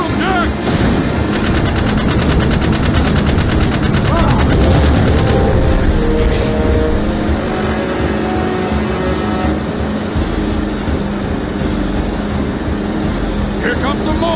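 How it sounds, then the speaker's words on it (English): Loud, rapid automatic gunfire rattles continuously in the Jak 3 video game, layered over a roaring vehicle engine and explosive combat effects. Character voices shout over the action. "Shoot him, Jak!"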